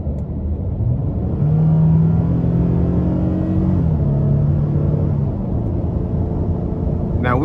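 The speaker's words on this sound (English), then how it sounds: "it hesitated just a tad, trying to find what gear it needed to be in, but again, having the strong V6, it pulled very well" A 2024 Nissan Frontier SV pickup with a 3.8 V6 and nine-speed automatic accelerates steadily from inside the cab, with a smooth rising engine drone and a brief dip at a gear change, loud and continuous.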